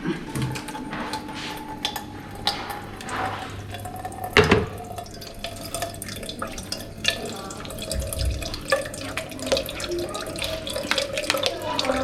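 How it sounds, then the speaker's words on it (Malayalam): Juice trickles and drips steadily through a sieve into a container close by, with light clinks of utensils and a brief knock partway through. "ഇനി നമ്മൾ ഇവിടെ അരിക്കുവാണേ അരിച്ചു കാണിക്കാം"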